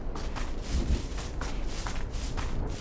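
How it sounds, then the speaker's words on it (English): Footsteps from a character in an Unreal Engine video game, using replacement footstep sounds, shuffling and walking in a steady patter of soft thuds with no talk. "I downloaded some footstep sounds and I replaced it with the original"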